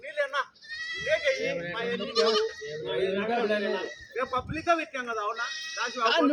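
Several goats bleat loudly and repeatedly at close range at the Kadiri livestock market, their wavering cries overlapping one another with short pauses between calls.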